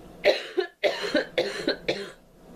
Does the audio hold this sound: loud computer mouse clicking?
no